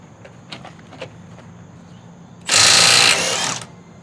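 A Milwaukee M12 Fuel stubby 3/8" impact wrench on speed 3 breaks a lug nut loose in one loud, close hammering burst of about a second, after a few quiet clicks.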